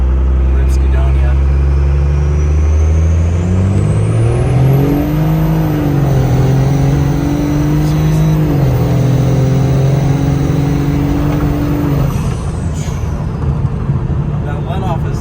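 A built 24-valve second-gen Cummins diesel truck engine revs steadily from inside the cab, its rising tone climbing and holding high before easing off near the end, loud and continuous throughout.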